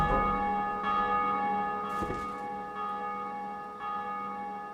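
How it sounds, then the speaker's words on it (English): A church-style bell in the Lost Bastille tower of Dark Souls 2, set off by a pulled lever, rings with sustained resonant tones and fresh strikes about once a second. No voices. "Killing them and pulling the lever, the bell rings."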